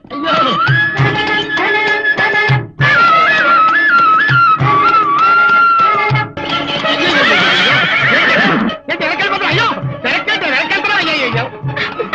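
A white horse neighs loudly in long, wavering whinnies close by, with hoof clip-clop and people talking around it.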